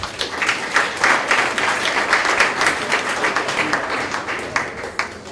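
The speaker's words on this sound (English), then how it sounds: "Give Business Partners a big clap." Steady applause from a conference audience, dense clapping that holds at an even level throughout without fading.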